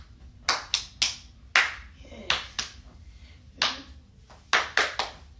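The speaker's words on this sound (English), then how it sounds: "That you doing too many claps." Bare hands clap sharply in short uneven clusters of two and three, close and crisp, with brief pauses between the groups.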